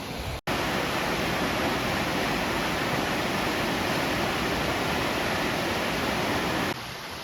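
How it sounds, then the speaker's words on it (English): River rapids below a snowy winter portage trail rush in a loud, steady broadband roar, with one brief dropout near the start and no voices over the continuous water noise. "now we're kind of stopped to enjoy the rapids just below the trail"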